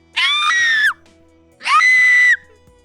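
A person imitates an eagle screech twice: two loud, shrill, sustained cries, each under a second long, separated by a short pause.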